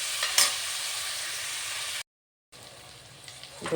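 Mushroom biryani masala with tomatoes sautéing in a pan, a steady close sizzle with stirring scrapes, briefly cut to silence midway before resuming.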